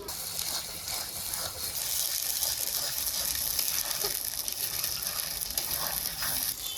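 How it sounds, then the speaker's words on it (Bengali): Spiced masala for a goat mutton curry fries down in a pot, a continuous dense sizzle with occasional stirring clinks and scrapes close by, no voices. "মশলা একদম ভালো করে কষিয়ে নিলাম"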